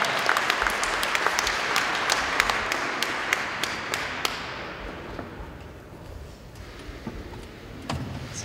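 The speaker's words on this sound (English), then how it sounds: "Give him a big round of applause" Audience applause after a speaker is called to the stage at a Heidelberg session event, dense and loud at first, thinning out and fading to scattered claps over the last few seconds.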